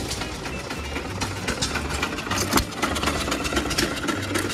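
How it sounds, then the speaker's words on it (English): An engine idles at a county fair tractor display, chugging steadily and close by with a low, even rhythm and no voices. "we got a couple, one engine running right here."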